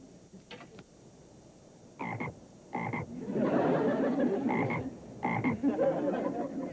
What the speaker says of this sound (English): this is my frog, Jumpin' Jack Flash.